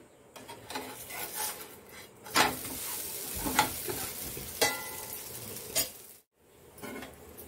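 A ragi flour roti sizzles steadily in a hot pan over a gas flame. Occasional sharp scrapes and clinks of a utensil against the pan break through the sizzling.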